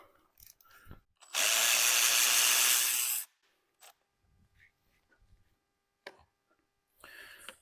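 A power tool loosens bolts on the drivetrain of a 2008 Ford E350: a loud, close whirring burst of about two seconds, then scattered clanks and handling noises, with another brief whir at the end.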